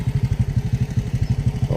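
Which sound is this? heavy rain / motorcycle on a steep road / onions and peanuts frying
motorcycle on a steep road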